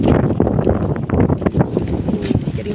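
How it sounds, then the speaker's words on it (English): Strong wind buffets the microphone outdoors in an old cemetery, a loud, continuous low roar that swells and dips in gusts with no pauses. "getting very windy."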